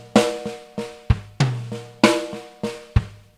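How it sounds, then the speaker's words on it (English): Drum fill played on snare and kick drum: a series of sharp, closely spaced hits with deep kick thumps mixed in, loud and close, with no talking. "the first half of the fill is going to include one group of four, which we're just going to play on the snare drum, obviously, and then with the kick"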